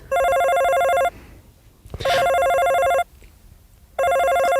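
Telephone ringing loudly in three bursts of roughly one second each, separated by short gaps, with a faint thump between the first two rings and no talking.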